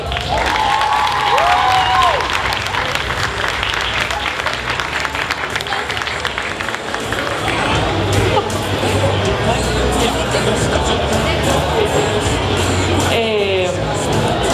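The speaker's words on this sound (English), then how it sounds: "Give her a big hand of applause." Sustained applause from a large audience at a cosplay event at DreamHack Winter 2022, dense clapping with some cheers and crowd chatter, loud and close throughout.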